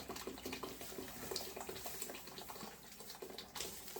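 Water runs steadily into a pot for pea soup on an off-grid wood cookstove, a soft continuous splashing pour heard close and fairly faint with no talking.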